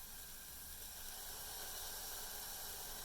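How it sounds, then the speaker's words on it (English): Garlic cloves sauté in vegetable broth for a carrot cardamom soup, giving a steady, even sizzling hiss that runs unbroken and fairly loud for the whole stretch. "We'll saute that for a few seconds more."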